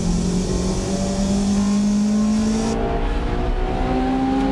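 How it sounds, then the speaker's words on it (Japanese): A Honda front-wheel-drive car engine revs up steadily on a track, its pitch climbing smoothly over several seconds with a constant loud drone and road noise. "ちゃんとブレーキを残してここからアクセルを踏むと"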